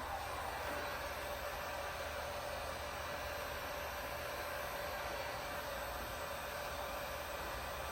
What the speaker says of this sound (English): post heat this with a heat source, either a heat gun or a hair dryer